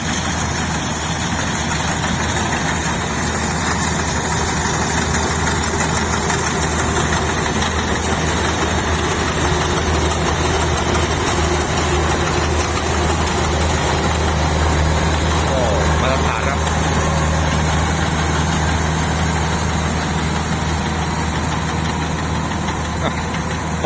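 A Kubota DC105X combine harvester's heavy engine drones steadily at close range with a constant low rumble and mechanical hum, a pump whirring along beneath it throughout while harvesting rice.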